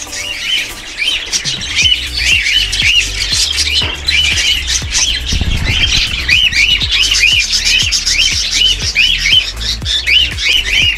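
Loud, repeated shrill squawks and chirps from a flock of cockatiels in an aviary, overlapping continuously with rhythmic calls filling the air up close.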